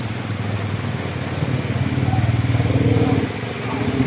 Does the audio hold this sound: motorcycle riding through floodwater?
yes